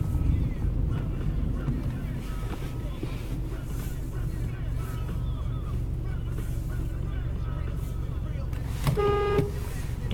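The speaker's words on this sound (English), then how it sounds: "that's me honking him" Near the end a car horn gives a short honk at a reversing vehicle, standing out over steady road and engine rumble with wind buffeting the microphone.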